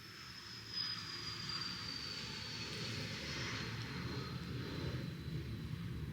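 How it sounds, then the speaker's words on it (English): Airplane passing close overhead near a bookstore outing, a steady loud engine drone with a thin whine that holds for several seconds and swells slightly, no talking. "that was a real close plane."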